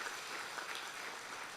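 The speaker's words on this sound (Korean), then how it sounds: "격려 박수 한번 주시면 감사하겠습니다." A church congregation applauds during a Sunday worship service, a steady wash of many hands clapping that sounds fairly distant and soft throughout.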